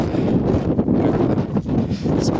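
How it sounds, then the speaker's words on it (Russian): Strong wind buffets the microphone in loud, rumbling gusts, with a rough, roaring texture and no clear voices. "Такой сильный ветер."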